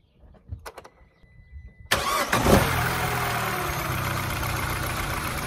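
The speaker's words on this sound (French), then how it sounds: "c'est allumer le moteur pour voir si tout est bon" After a few quiet clicks, a Citroën DS3 VTi 120 engine cranks and roars to life after a spark plug change, then settles into a steady idle close by.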